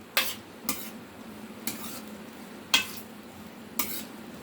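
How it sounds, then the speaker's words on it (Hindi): Okra frying in oil for masala bhindi pyaz, a soft continuous sizzle broken by five spaced scrapes of a spoon stirring against the pan. "और अब मैं इसमें ये भिंडी डाल रही हूँ। इसको कुछ देर मैं पकाऊंगी"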